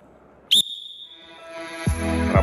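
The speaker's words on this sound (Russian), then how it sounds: "По свистку мы с вами начинаем." A sharp, brief whistle blast signals the start of an exercise in a school sports lesson, loud and close, followed by faint background noise and soft movement sounds.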